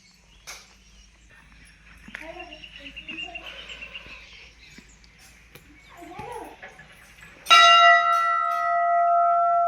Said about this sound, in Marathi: पक्ष्यांचा आवाज बघा ऐकू शकता